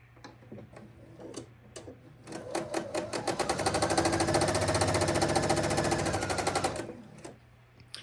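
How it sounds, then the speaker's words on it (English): Sewing machine stitching quilt pieces along a quarter-inch seam, a fast ticking needle run that builds up, holds steady for a few seconds, then stops, with light clicks before and after. "I'm going to sew all the way off"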